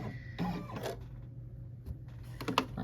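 Embroidery machine stitching a black satin stitch on a Kimberbell Save the Date pillow panel, giving a steady mechanical whir with a brief burst of faster clattering near the end, close and moderately loud with no talking.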